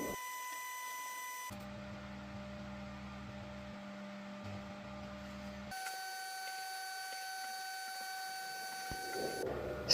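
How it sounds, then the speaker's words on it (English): Sewing machine stitching around the strap of a gift bag, a steady mechanical whir and hum that changes pitch as the speed shifts, fairly quiet and without talking. "Sew all the way around and finish at the first vertical pin."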